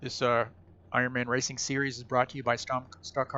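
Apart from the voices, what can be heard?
No everyday noise stands out behind the speech.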